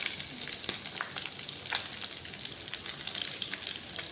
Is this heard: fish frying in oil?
yes